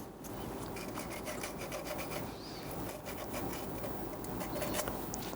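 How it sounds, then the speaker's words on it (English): Up close on a 2011-2015 Kia Sorento 2.4L, someone cleans the alternator mounting surface near the upper bolt, making steady, rapid scrubbing and rasping strokes with no talk. "just going to clean the surface here where the alternator rubs up against here"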